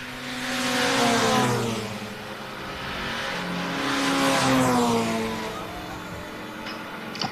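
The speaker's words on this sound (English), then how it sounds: "The misfiring 3-cylinder car 36 sounds worse" Misfiring three-cylinder classic race car engine at Castle Combe circuit, a rough, uneven engine note that rises and falls twice as it passes at moderate distance, with no talk.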